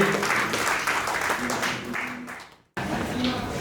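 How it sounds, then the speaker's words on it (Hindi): Audience applause at a corporate anniversary celebration for a chemicals company, a steady wash of many hands clapping that dips into a brief near-silence before resuming, with voices mixed in. "एक बार जबरदस्त तालियां बजाएं,"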